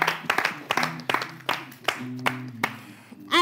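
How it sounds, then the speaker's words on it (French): Scattered audience applause rises and falls in several short bursts, with voices talking over and between the claps. "Non, ça s'applaudit déjà."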